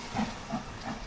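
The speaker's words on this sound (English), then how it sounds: "that steam engine, that's lovely, isn't it?" Steam engine giving off soft, pulsing hisses, about three puffs in quick rhythm, moderately close with no voices.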